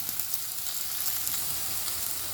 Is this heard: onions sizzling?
yes